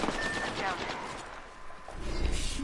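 Sniper rifle fire in the Apex Legends battle royale shooter, with dense gunfire blasts layered over a noisy firefight and a sharper burst near the end.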